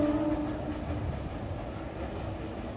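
A Sealdah main line train passes on the track overhead, a steady, fairly loud rumble with a faint horn-like tone near the start, heard from below on a walk between Kolkata and Bidhannagar stations.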